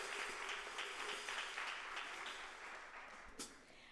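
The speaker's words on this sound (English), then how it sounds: "Let's give them a round of applause again for the video" Congregation applause at a Baptist church Sunday service after a youth video, a quiet, distant wash of clapping that gradually tapers off.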